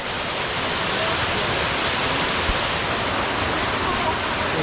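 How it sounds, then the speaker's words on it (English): A waterfall roars as a constant, loud, broadband rush of falling water, dense and unbroken throughout with no pauses. "Nah, this one is crazy, y'all. The waterfall."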